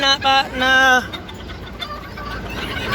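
A Bantam hen gives a few loud, close clucks in quick succession, then the sound fades into a quiet, noisy background.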